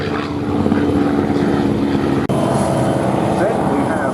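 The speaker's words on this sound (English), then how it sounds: "First off, we have the North American P51 Mustang." A North American P-51 Mustang propeller warbird flies at the Duxford Battle of Britain airshow, a steady droning engine roar held throughout, moderately loud and distant, with a voice talking over it.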